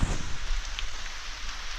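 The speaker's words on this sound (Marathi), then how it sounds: "पाऊस पडतोय" Steady evening rain hisses down evenly on a surface at a Konkan village farm, a constant close wash of drops with a faint low rumble at the very start.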